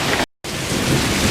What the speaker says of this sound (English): That's some serious rain.